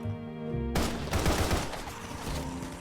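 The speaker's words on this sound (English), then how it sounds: "A hail of gunfire goes off at the same time as the boys' historical roar" A sudden hail of video-game gunfire in Path to Nowhere erupts after a short lead-in and continues as a dense, loud burst of many overlapping shots.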